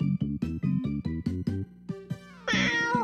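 Cat meowing in a retro video game, a rapid series of short, bright synthetic meows in a steady rhythm, then a longer, louder drawn-out cry at the end.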